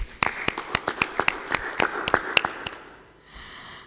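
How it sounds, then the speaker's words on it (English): Clapping for a performer who acted in a drama for Krishna, played as about a dozen distinct, fairly close claps in an uneven rhythm, then fading into quiet room tone. "Give him my clap."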